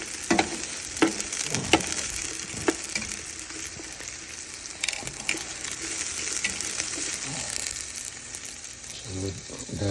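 Pork chunks sizzle and fry in a pan for patatim, a steady crackling hiss with scattered sharp pops and occasional stirring scrapes, close and continuous.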